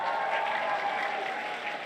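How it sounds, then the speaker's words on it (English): An audience bursts into brief, dense applause, a steady wash of clapping lasting about two seconds before it starts to fade. "Give yourselves a round of applause."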